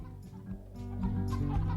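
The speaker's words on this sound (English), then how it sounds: "Listen to all my clucking chickens." Video-game chickens cluck loudly and steadily, with several birds overlapping in a busy, continuous stream of clucks and squawks.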